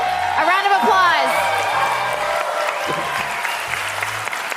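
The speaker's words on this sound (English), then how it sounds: "A round of applause." Stadium crowd applauding after a home-match announcement at Enter & Co Stadium, steady clapping and some whoops filling the space, with a voice talking over the start and a faint musical tone above.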